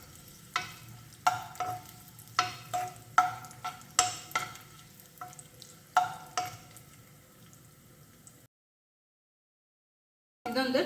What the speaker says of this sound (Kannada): ಇದೊಂದು 30 ಸೆಕೆಂಡ್ಸ್ ಫ್ರೈ ಮಾಡ್ಕೊಬೇಕು